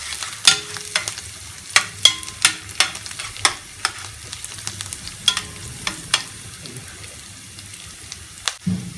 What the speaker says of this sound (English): So saute this for about a minute.